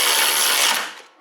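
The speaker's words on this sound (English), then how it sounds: "I'll put the torque wrench on it now." Power-tool-like mechanical whir while tightening the front strut bolts on a VW Mk6 Golf/GTI, loud and steady for about a second, then tapering off briefly before resuming.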